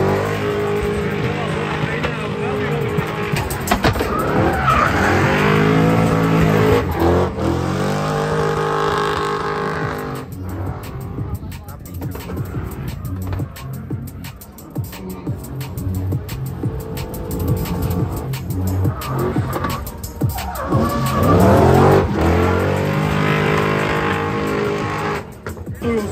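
Race cars in a street demolition race in a city centre: engines roar and rise and fall as cars pass close by, loud and continuous, with occasional skids and an announcer talking over them.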